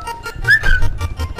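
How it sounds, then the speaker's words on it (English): A high, dog-whistle-like tone in the video game Nintendo Land, a brief rising and falling whistle near the middle amid soft rhythmic game sounds. "It's like a dog whistle."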